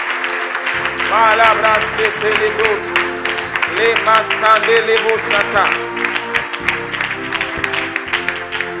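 A church congregation claps loudly to acclaim the Lord, its applause mixed under voices shouting and singing out with a musical backing throughout.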